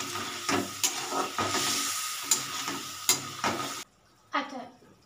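Duck egg curry stir-fried with ghee in a pan over raised heat, loud sizzling broken by repeated scraping stirs at irregular intervals, then a sudden cut to near silence and one last short sizzle.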